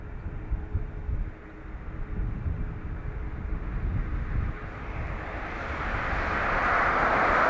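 At Dublin Airport, a deep, steady aircraft engine roar rumbles while a heavy plane taxis nearby, with a higher jet whine rising and growing louder toward the end.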